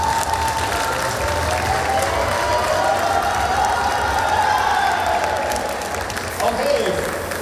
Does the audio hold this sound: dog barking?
no